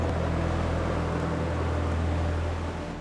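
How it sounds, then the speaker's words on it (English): A boat's engine roars steadily on open water, a loud, dense, continuous drone that holds close and fills the whole stretch without pause. "I heard the roar of a boat again. It's louder."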